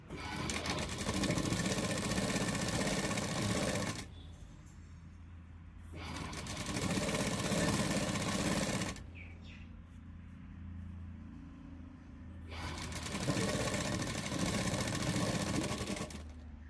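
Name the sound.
sewing machine stitching a half-inch seam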